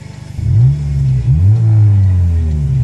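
Engine of a 1996 Renault Clio with a loud aftermarket exhaust revs up hard after a brief idle, a deep, throaty roar that sweeps up and dips in pitch, close and loud, with no talking.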